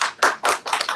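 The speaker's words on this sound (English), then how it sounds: "Another round of applause, please, for Liz and for all of you that are doing t" Audience applause at a community conference session breaks out in a few quick, broad surges of clapping, close and moderately loud, with brief dips between bursts.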